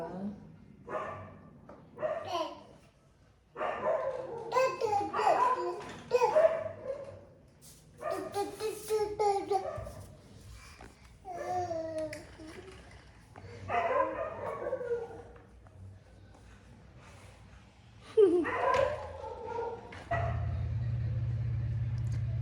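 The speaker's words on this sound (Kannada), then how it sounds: "ನಾಯಿ ಕೂಗ್ತಾ ಇದೆ" A dog barks and yips in repeated short bursts, some whiny and high-pitched, close by, with pauses between outbursts and a low hum at the end.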